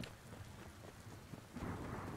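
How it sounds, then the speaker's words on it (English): Rain and thunder in the video game Smalland, a steady hiss of falling rain with a low rumble swelling near the end, faint and continuous without speech. "in this rain, it rains a lot during the summer"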